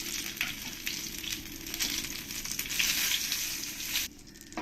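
Cumin seeds, dried red chillies and bay leaves sizzle and crackle in hot oil, a steady bright frying hiss with small pops, dropping away abruptly near the end.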